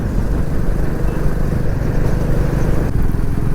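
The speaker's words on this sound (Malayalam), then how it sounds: "ഒരു സ്കൂട്ടർ വരുന്നുണ്ട്." A scooter passes close by on a road in Karnataka, its engine a steady, loud buzzing drone that holds for a few seconds with no voices over it.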